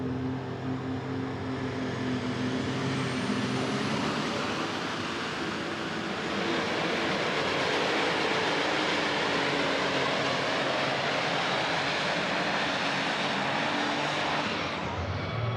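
Super modified pulling tractor with multiple staged turbos burning methanol, a loud sustained roaring, whining engine that swells midway and holds, then cuts off at the end, with no talk.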